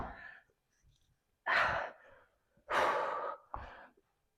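Heavy, forceful exhales and sharp breaths during a full-body circuit of push-up renegade rows, three or four loud gusts in an uneven rhythm with quieter breathing between, close and alone.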